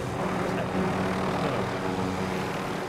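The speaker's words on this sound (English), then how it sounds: "There's another helicopter coming." A video game helicopter thrums steadily and loudly, its rotor and engine drone continuing unbroken for a few seconds with no talk over it.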